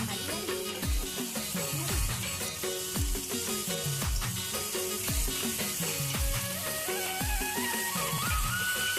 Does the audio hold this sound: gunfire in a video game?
no